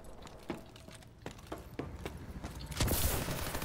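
Gunfire in Call of Duty: Advanced Warfare, scattered single shots and short bursts at moderate distance that build into a louder, sustained burst at the end, no talk.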